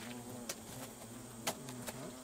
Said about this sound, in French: Ici, des abeilles se servent d'une termitière pour produire leur miel.